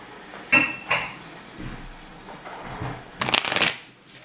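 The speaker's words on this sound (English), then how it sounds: "let me shuffle them up nice and tight, nice and proper for you" A deck of playing cards is shuffled during a tabletop card game, with a couple of sharp riffles near the start and a longer loud riffle toward the end, close up, with soft handling noise between them.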